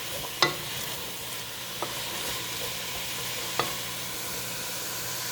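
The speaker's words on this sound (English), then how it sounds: "I'm going to just let that cook down for a minute." Minestrone vegetables cook down in a pot with a soft, steady sizzle. Three light clinks of a utensil come through, with no voices.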